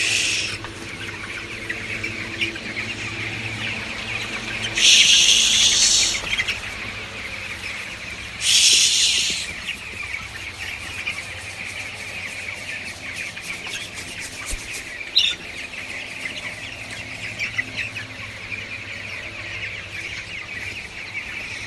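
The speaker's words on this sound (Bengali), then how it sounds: "ব্রয়লার মুরগি কিন্তু আজ যত বড় হবে তত অলস হয়ে যায়।" Broiler chickens on a poultry farm cluck and chirp steadily throughout, a dense flock of fairly loud birds with two brief louder bursts of calling and no talk.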